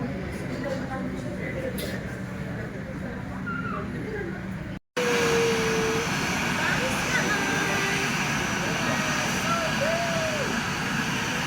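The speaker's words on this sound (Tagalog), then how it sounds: "Sumakay ako ng eroplano." Dense, steady airplane engine roar fills the cabin during flight, with a brief dropout midway, and people talk faintly beneath the noise.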